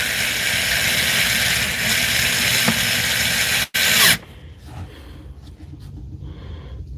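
A small, worn cordless screwdriver whose motor is beginning to fail whirs steadily as it drives screws, then cuts out abruptly, leaving only faint scattered handling noises.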